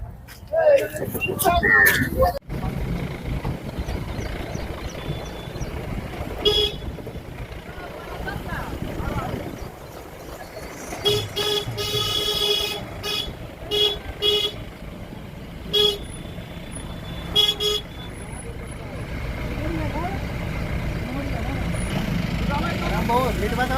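Tractors and other farmers' vehicles roll past in a rally, their horns tooting in short repeated bursts over a continuous engine rumble, while people talk nearby throughout.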